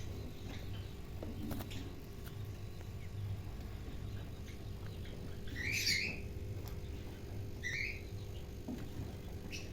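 Lovebird chicks give a few faint, brief chirps, two short calls standing out near the end over a quiet, humming room background.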